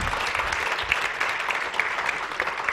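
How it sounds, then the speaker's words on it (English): A seated audience claps continuously, with a thick, even wash of applause and a few sharper individual claps standing out. "Give them a round of applause."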